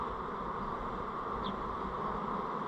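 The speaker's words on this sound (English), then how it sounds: "don't mind the bees flying out" Honey bees flying out of an opened hive during a varroa check, a steady low buzzing drone throughout, close and continuous, with no talking.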